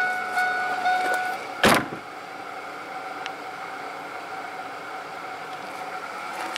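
Power door lock actuator on a 1996–2005 Chevy Venture minivan fires once with a short sharp clunk partway through, then a quiet steady hum of the garage or car interior remains.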